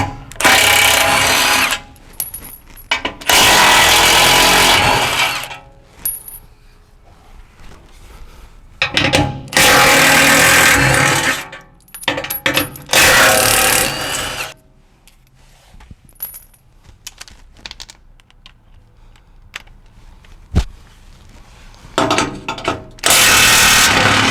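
A power tool, likely an impact driver, runs bursts on bumper bolts with 13mm and 15mm sockets during a front bumper install, loud whirring spurts of a second or two separated by quiet pauses and clinking.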